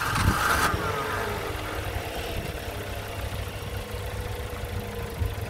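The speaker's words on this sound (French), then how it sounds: "je vais refaire un petit démarrage" A Nissan Micra is restarted with a brief cranking burst, then its engine settles into a steady, low, even idle that continues to the end without talk.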